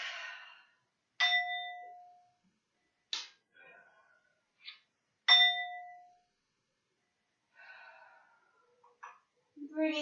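A meditation chime rings twice with clear, lingering metallic tones during a yoga session, each strike decaying slowly, amid soft breaths and quiet rustling in an otherwise silent room.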